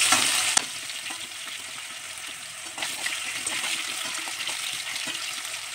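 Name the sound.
thinly sliced potatoes frying in oil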